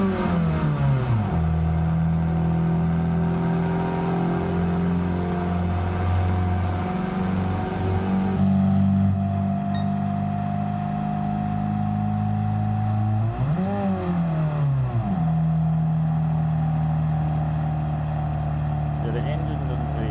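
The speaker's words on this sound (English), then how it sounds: "the engine doesn't really have that much power to go up road, to go up hills" A low-powered car engine in the Gran Turismo 7 racing game drones and strains up a hill, a steady humming tone that dips and rises with gear shifts while someone talks over it throughout.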